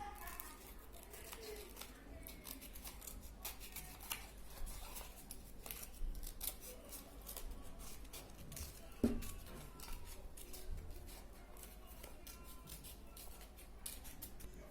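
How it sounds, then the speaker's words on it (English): Scissors snip through paper in repeated short, soft cuts for a cotton ball sheep craft, with faint crinkling in between, close by and quiet. "Then cut it out with the scissors."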